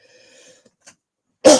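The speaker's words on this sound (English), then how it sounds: "that's what's making me cough" A single sharp cough, from a person with heavy nasal drainage, bursts out loud and close at the very end after a near-silent pause with faint tones.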